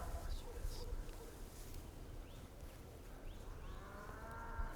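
A cow on a farm moos in a few drawn-out calls at moderate distance, set against a low rumbling background with faint bird chirps and a little nearby speech.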